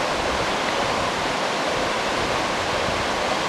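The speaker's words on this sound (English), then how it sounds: "This flows downstream here, about a quarter to half a mile, and runs into the current National Scenic River." Spring water boiling out of the ground and flowing downstream toward a National Scenic River, heard as a steady, dense rush of running water, close and constant throughout with no voices.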